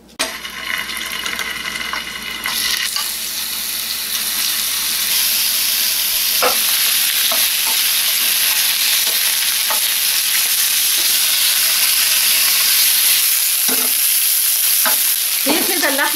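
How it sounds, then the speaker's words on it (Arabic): Meat seared in a spoonful of hot oil over high heat for an okra casserole, giving a loud, steady sizzle with occasional stirring scrapes, and no talking. "اول ما الزيت يسخن احط اللحمه على طول."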